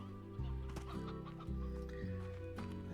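Hens in a video game cluck in a steady, repeated rhythm of short, close calls that continues throughout.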